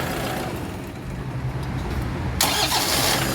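A Toyota Vigo pickup's 2KD diesel engine cranks after a starter repair, then catches and settles into a steady, loud mid-range running rumble with a sharp rise in brightness as it fires, heard close up without speech.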